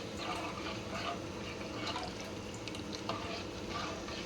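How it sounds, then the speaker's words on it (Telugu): Salt, chili powder and garam masala are stirred through a simmering gravy in a pan for parotta salna, giving a soft, continuous bubbling and scraping hiss, fairly faint and steady. "ఉప్పు, కారం, గరం మసాలా వేసుకున్నాం కదా, దాన్ని బాగా తిప్పాలి, తిప్పుతూ ఉండాలి"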